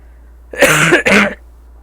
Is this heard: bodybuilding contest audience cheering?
no